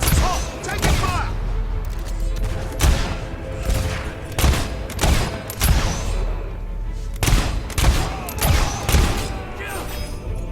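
Heavy gunfire in the Fable 3 video game, with repeated loud bursts and booming shots spread across the clip over a constant low battle rumble. A voice speaks faintly underneath.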